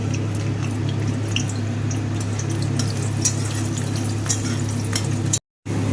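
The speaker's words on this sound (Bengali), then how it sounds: "তেলের মধ্যে দিয়ে দেব অল্প পরিমাণে একটু মেথি দানা, আর দিয়ে দেব 5-6 কোয়া রসুন" Fenugreek seeds and garlic cloves sizzle in hot oil while a Bengali coconut-and-catla fish dish is being cooked: a steady, fine crackling hiss over a low hum, with small pops scattered throughout and a brief cut-out near the end.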